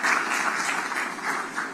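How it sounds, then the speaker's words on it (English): Audience applause at the launch of the Sigma 25th Legacy Run, a short, even burst of clapping from a crowd, moderately loud and steady with no talk over it. "So give everyone, both of them, a round of applause."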